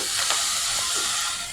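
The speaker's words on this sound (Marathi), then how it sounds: "ही मेथी जशी आपण तेलात परतलो ना, तो मस्त सुगंध येईल" Chopped fenugreek leaves hit hot oil in a pan, giving a loud, dense, steady hiss for about a second and a half that eases slightly at the end, with no talking.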